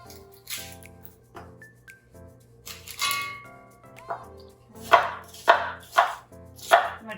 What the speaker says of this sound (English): I'm going to chop up a half onion.